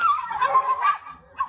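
Two female dogs on a street yelping and whimpering in short, high, whiny bursts, close by and fairly soft, with a brief pause before a final yip.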